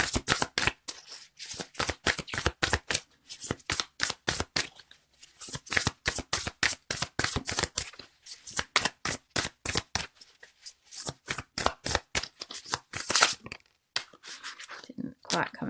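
Tarot cards are shuffled by hand in rapid crisp riffles and slaps that continue in bursts up close for about fifteen seconds, with a soft voice now and then.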